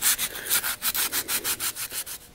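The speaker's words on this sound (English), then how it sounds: "Wrap your sandpaper around so you've got a flat edge. And then do your sanding." Sandpaper wrapped around a flat wood block rubbing a SIG Sauer P232 pistol trigger guard, a quick, even run of about a dozen back-and-forth strokes, close and clear with no talking.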